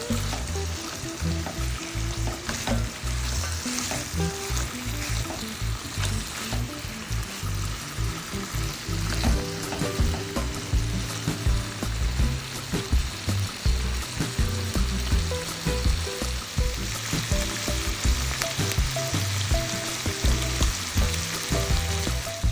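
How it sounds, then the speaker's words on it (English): Steak sautéing in a couple tablespoons of vegetable oil in a hot skillet sizzles loudly and steadily, with a crackling, pulsing texture and no talking. "we're going to go ahead and saute the meat"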